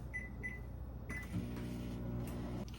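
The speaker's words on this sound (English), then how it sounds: "pop this into the microwave for maybe 15 to 20 seconds" A microwave oven running to melt butter for einkorn sourdough crackers: a couple of short keypad beeps, a click, then a steady low electrical hum that carries on to the end, close and fairly loud.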